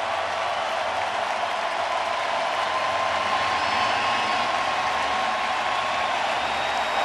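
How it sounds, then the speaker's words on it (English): A sellout baseball crowd at a 2022 World Series game applauds pitcher Framber Valdez with steady, dense clapping and crowd noise that holds at an even level throughout. "Framber Valdez is going to get a great show of appreciation from this sellout crowd"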